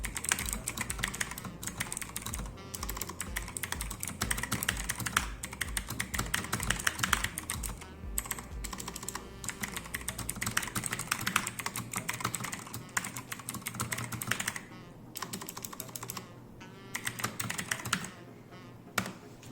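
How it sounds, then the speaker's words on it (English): Rapid typing on an Ant Esports MK-1000 mechanical keyboard with blue switches, a dense clicky clatter of keystrokes, close and steady throughout, with brief pauses and no talk. "Now we're going to be comparing like my typing to the other keyboard which I have."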